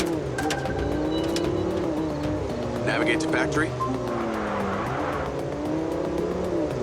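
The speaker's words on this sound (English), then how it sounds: "I'm in a car that may not be mine" A car driven in the PC video game MindsEye: a steady engine hum with shifting revs and a brief tire squeal, running under a spoken navigation line.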